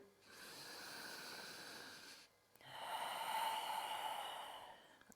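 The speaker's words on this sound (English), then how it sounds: "3 deep breaths here." Deep breathing held in a yoga stretch: two long, close, airy breaths, a softer inhale and then a fuller, louder exhale after a short pause, with no talk.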